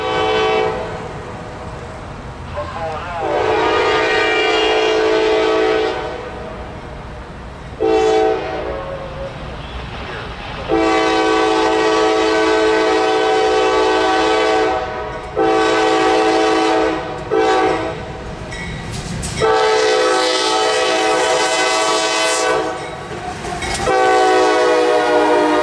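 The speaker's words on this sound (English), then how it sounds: "Q541 is a daily manifest freight train running between Cincinnati," Freight train Q541, a daily manifest hauled by AC44CW and CW40-8 locomotives, passes loudly with repeated long horn blasts broken by short gaps over a constant rumble of rolling cars.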